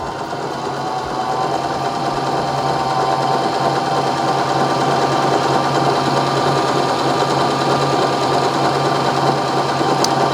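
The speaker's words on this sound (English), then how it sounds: "Let's go ahead and get this stitched out so you can take a look at it." A Baby Lock Zest home sewing machine runs a stretch stitch with a steady, continuous mechanical whir and rapid needle rhythm, close and fairly loud, starting softer and holding level for about ten seconds with no talking.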